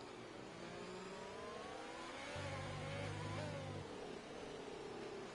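An F4 race car engine in a racing video game revs through a steady drone, climbing in pitch with a brief surge of wheel spin midway before settling, fairly quiet and without talk.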